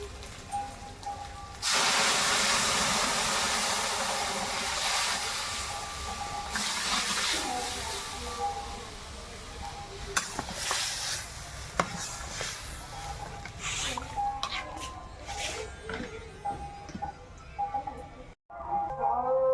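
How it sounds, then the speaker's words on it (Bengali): Turmeric, salt, cumin, coriander and lentils stirred into hot oil, giving a broad hiss of sizzling and steam that fades gradually, with occasional scraping clicks. "হলুদ লবণ জিরে ধনে সব গুঁড়ো মশলাগুলো দিয়ে একটু নেড়ে এবার ডালটা এর মধ্যে দিয়ে দেবো"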